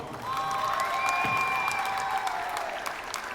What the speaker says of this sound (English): Please give a big round of applause to Amy Wang